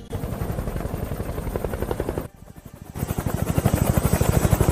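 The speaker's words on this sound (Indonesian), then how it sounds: "Baru saja helikopter penyelamat datang" Rescue helicopter arriving in an action film, a loud continuous rotor chop with rapid rhythmic beating that briefly dips before returning stronger and closer.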